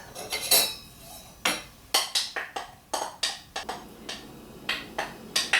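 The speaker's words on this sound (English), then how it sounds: "we're going to combine it with our dry ingredients, and we're going to mix this up" Spoon clinking and tapping rapidly against a mixing bowl while wet and dry cobbler batter ingredients are combined, a close, irregular series of sharp knocks with no voices.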